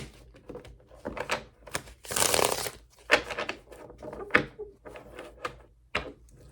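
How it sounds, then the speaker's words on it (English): Crisp, uneven bursts of stiff tarot cards being shuffled and riffled, with one longer rushing riffle partway through and sharp taps between. "These cards are very stiff, so bear with me as I try to shuffle them."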